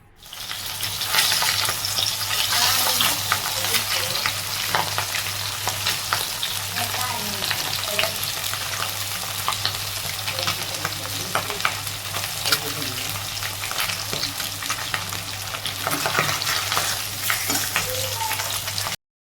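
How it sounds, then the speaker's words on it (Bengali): Fish frying in a pan of hot oil, a loud, dense, continuous sizzle and crackle close by, with occasional stirring scrapes and no talk. "এদিকে মাছ ভাজা হয়ে গেছে"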